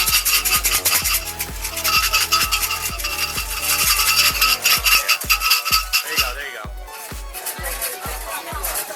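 A wooden fortune stick shaker is shaken at a Tokyo temple in the Asakusa area, giving a loud rapid rattling of sticks in regular bursts that pause briefly near the end before resuming.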